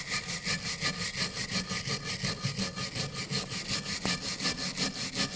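Rust and corrosion scrubbed off a 2007-2013 BMW X5 front brake bracket, a steady, rhythmic back-and-forth rasp repeating several times a second, close and loud throughout, with one brief sharp knock near the end.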